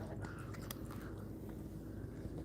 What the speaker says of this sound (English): here we have the feline Garamond font eating his food, slobbering, nomming